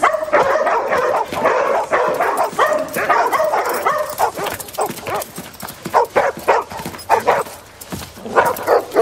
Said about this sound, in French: Allez, venez les chiens.